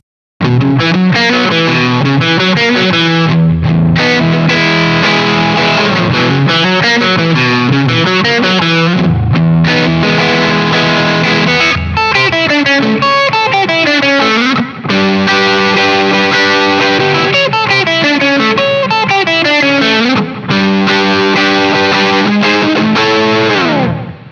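A Fender Japan Telecaster in the parallel pickup setting with Lightspeed and Shanks pickups together plays a loud, continuous overdriven lead line with bends and sustained notes, heavily distorted and chorus-tinged, with no voices.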